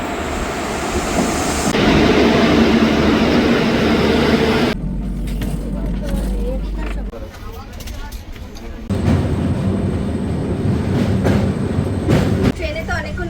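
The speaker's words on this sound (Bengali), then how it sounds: "বেসিক্যালি ট্রেনটা শালিমার থেকে সাঁতরাগাছি আসবে এখন।" A Shalimar–Puri weekly special train rolls into a station, its steady rumble and clatter loud and continuous throughout, with the noise shifting in character partway through as it passes.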